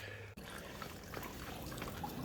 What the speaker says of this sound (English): That's the gas draining out right there.